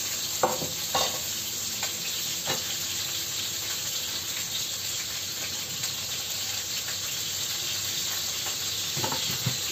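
Chicken thighs fry in a pan for a curry, giving a steady, close sizzle with occasional stirring clicks and scrapes throughout, and no voices.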